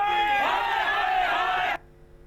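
Congress and AAP protesters in Uttarakhand form a loud, dense crowd chanting and shouting together, a sustained roar of many voices that cuts off abruptly after about two seconds.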